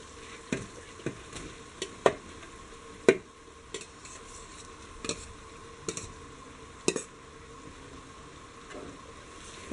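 Cooked salted rice is stirred into frying beef for Kerala-style beef fried rice, with scattered sharp spoon scrapes and taps against the pan over a faint low sizzle.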